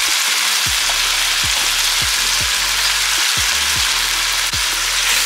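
Chicken frying with chili powder, turmeric and salt gives a loud, steady sizzle close by, with a series of low swooping stirring or scraping strokes at a fairly regular pace throughout.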